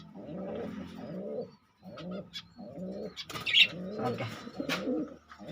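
Pet budgies in a cage give repeated bursts of close chattering calls with short pauses between them, and a voice speaks briefly.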